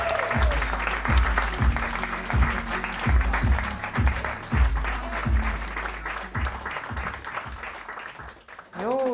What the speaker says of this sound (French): On applaudit Anissa Loussif.